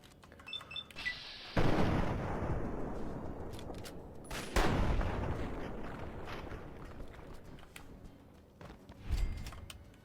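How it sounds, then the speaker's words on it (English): A dynamite blast in the game Fallout 3 bursts out loud and broad, rumbling and decaying, followed by a second heavy explosion and a later, smaller burst. "Goes the dynamite."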